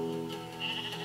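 Sheep bleating on a farm, a couple of close calls over steady background noise, with one longer, higher bleat near the end.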